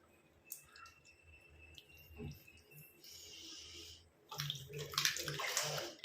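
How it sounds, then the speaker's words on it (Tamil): Water splashes and pours as a face is washed, quiet at first with a few faint drips, then a louder, busier stretch of splashing and running water in the last two seconds, with no one talking. "இப்போ நான் ஃபேஸை போய் நல்லா வாஷ் பண்ணிட்டு வந்துடுறேன்"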